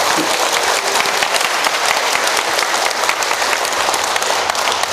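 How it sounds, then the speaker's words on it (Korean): An audience at a laughter yoga health lecture bursts into loud, sustained applause, dense clapping from many people holding steady throughout. "우리 서로의 건강과 행복을 위해서 다시 한번 박수 한번 부탁드립니다"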